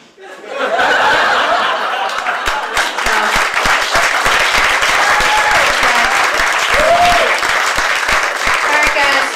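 Audience applause at a Gotham Comedy Club show, a dense sustained clapping that swells quickly and holds steady and loud throughout, with scattered laughter and cheering mixed in.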